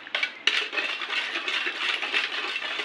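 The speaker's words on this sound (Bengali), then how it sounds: "এটা আলুটাকে ম্যাশ করে নিলাম।" Boiled potato mashed for fuchka filling in a metal bowl, a steady close run of scraping, clinking utensil strokes with no talk.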